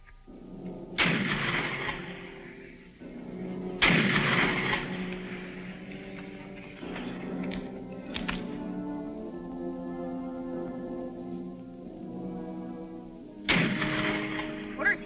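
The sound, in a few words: gunshots fired into the ground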